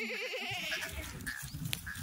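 Kathiawadi goats bleat close by, a few wavering calls overlapping across two seconds on a farm, with some livestock shuffling in the background.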